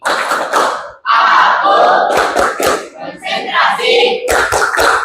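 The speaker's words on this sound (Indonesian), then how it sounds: "Tepuk konsentrasi." A class of students performs the concentration clap in a classroom, with rhythmic bursts of many hands clapping together, interleaved with loud group chanting of the accompanying words.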